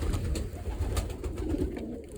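Racing pigeons in a loft make a low steady cooing close at hand, mixed with rustling and soft knocks and no talk.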